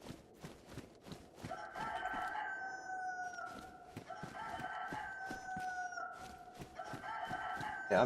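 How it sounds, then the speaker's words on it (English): A rooster in the survival game DayZ crows three times in long, drawn-out calls, heard over a steady run of rhythmic footsteps crunching along. "Yeah, I'm coming, chicken, I'm coming."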